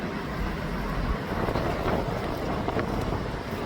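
Strong wind roars and buffets the microphone in a continuous rumbling rush, with no talking.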